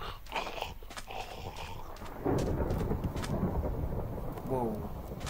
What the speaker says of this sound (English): Thunder? Is it storming on the other side of the island?